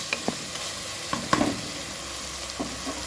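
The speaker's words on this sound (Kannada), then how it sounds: "ಈಗ ಒಗ್ಗರಣೆ ರೆಡಿಯಾಗಿದೆ." Tempering with chopped ginger sizzles in hot oil in a kitchen pan, a steady low fry broken by a few sharp clinks and scrapes of a spoon stirring.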